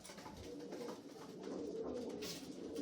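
Racing pigeon cocks coo softly in a loft before a 200-mile race, giving a faint, continuous murmur of overlapping low coos.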